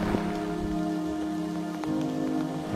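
Rain falling at the edge of a carp-fishing lake, a steady patter of drops on the surface with a soft continuous hiss and a few brief louder taps, no voices.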